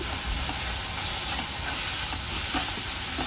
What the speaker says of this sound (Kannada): ಕೊತ್ತಂಬರಿನ ಸ್ವಲ್ಪ ಫ್ರೈ ಮಾಡೋಣ